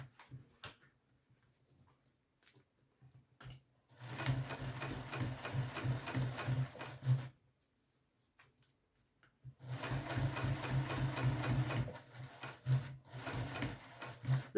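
A sewing machine stitches the bottom of a pocket in two bursts of rapid needle clatter with quiet pauses between, close and fairly loud.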